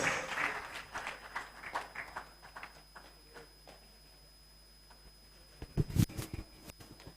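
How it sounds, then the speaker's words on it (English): Applause from a conference hall audience at a West African public accounts assembly greets the President of the Senate, a scattered round of clapping that starts fairly strong, thins out and fades, with a brief louder burst near the end. "Please, a round of applause for him"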